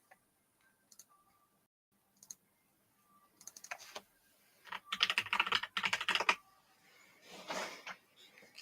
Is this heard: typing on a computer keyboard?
yes